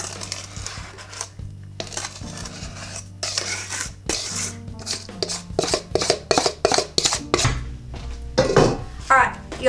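Metal 13 by 9 inch brownie pan handled in a kitchen, giving scattered clanks, scrapes and taps that grow busier toward the end, with a low steady hum underneath.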